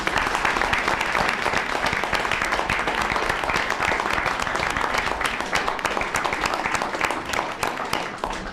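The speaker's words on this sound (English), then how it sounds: "we're going to give the PTA a big round of applause" A school board meeting audience gives a round of applause for the PTA, a dense, sustained wash of many hands clapping evenly throughout, close and loud.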